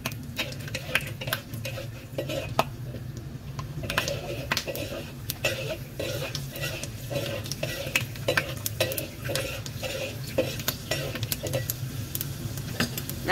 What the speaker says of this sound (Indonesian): kacang tanahnya itu jadinya coklat dan seperti gosong ya teman-teman. Jadi kita goreng sampai dengan kekuningan aja